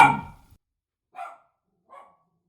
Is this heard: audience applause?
no